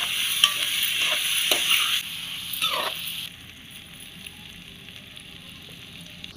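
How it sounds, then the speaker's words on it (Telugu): Chilli sauce being stirred into a frying mixture in a pan, giving a steady close sizzle with a few scraping strokes of the spoon in the first three seconds, then a quieter continuous fry. "కొద్దిగా కలుపుకోవాలి."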